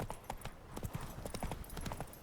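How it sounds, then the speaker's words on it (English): A horse named Roach in the video game The Witcher 3 trots along with a steady, fairly quiet clip-clop of hooves in an even rhythm. "Whoa there, Roach."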